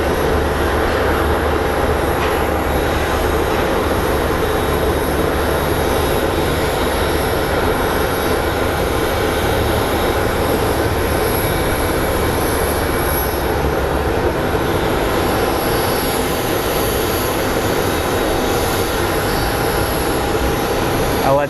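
A Boeing 737 airliner at Phoenix Sky Harbor, a continuous broad jet roar that holds steady and loud from start to finish with no talk.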